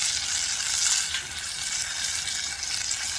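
Steak sizzles in a pan over a campfire, a steady close frying hiss that carries on without a break.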